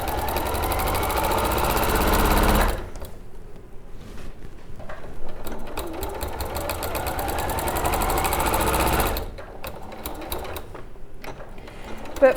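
Domestic sewing machine stitching a Whitstable weekend bag with the needle moved to the side, a loud steady motorised whirr running in two long bursts separated by a quieter stretch with fainter mechanical clatter.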